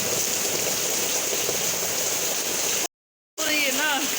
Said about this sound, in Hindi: ये हाल है, देख रहे हैं। बारिश कब कब चल रही है।